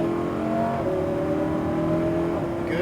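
A Lamborghini Huracan engine revs under throttle on a track, with a loud, sustained rising whine and a brief shift in pitch midway, heard close with no talk over it.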